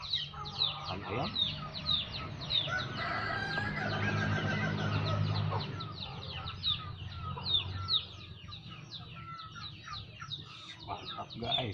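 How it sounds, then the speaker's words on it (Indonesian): Bangkok chickens at feeding time in a poultry pen, with repeated clucks and calls, a rooster crow and a busy low hum, the birds close by and fairly faint overall. "Ini kadang-kadang dikasih makan ayam."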